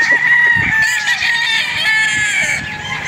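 Young rooster stags on a farm in Padre Garcia, Batangas crow loudly and close, with long drawn-out calls overlapping one another and a few clucks beneath, no talking.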